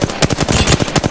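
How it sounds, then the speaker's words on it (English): Loud, close automatic gunfire rattles out in a rapid, steady stream of shots during an Apex Legends match on PS4 Pro. "Taking fire."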